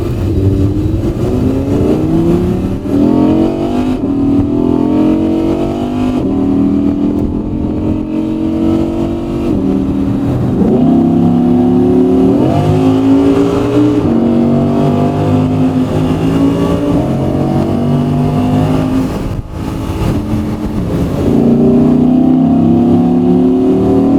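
Rented supercar accelerating hard on a motorway near Marbella, the engine note climbing repeatedly through rising gear sweeps with loud, close revving and no talk.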